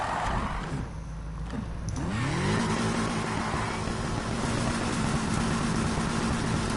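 A car converted from all-wheel to rear-wheel drive drifts in a racing game, its engine revving up and then holding a steady, droning high rev under continuous tire and road noise; no one talks.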